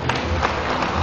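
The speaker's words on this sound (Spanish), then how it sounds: "¡Fuerte aplauso para ellas!" A short, steady burst of crowd applause and cheering for the teachers at a primary school fair in Tepetzala.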